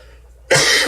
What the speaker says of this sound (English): I got this little bit of a cough